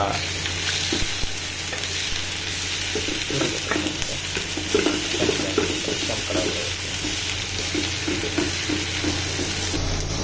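Onions frying in a pan for avalakki (beaten rice), with steady sizzling throughout and repeated scraping, clattering stirs of a spoon against the pan at close range, no voices.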